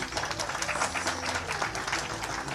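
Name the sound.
audience applause at a book launch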